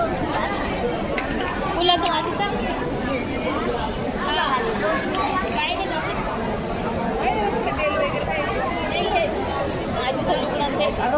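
A crowd waits in a temple darshan queue in Nashik, a dense, steady babble of many voices talking at once close by, with no single voice standing out.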